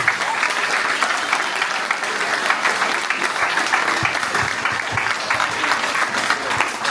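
Sustained audience applause for children at an Armenian community children's celebration in Strasbourg, dense steady clapping from a crowd lasting throughout, fairly loud and close.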